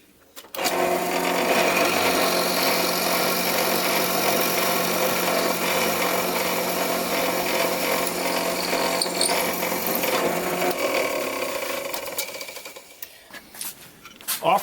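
A 3/8 inch Forstner bit drills holes in wood while building a wedge-jointed wooden stool, a steady loud whirring grind that runs for about eleven seconds alone, then winds down into quieter handling noises.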